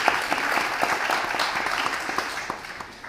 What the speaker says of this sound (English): more applause for Jennifer Lyles